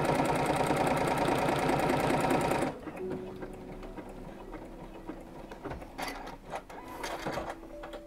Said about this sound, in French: Tu es une formidable machine UX8. Fais-moi un bel œillet s'il te plaît.